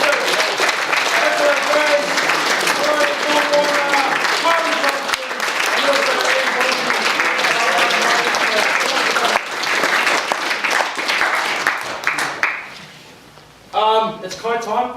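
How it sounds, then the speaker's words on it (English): A crowd at an evening triathlon information session breaks into sustained applause for a speaker, dense and loud, with voices and cheers mixed in, fading around the twelve-second mark before a voice starts talking. "Can we please have a round of applause once again for Terry Crawford?"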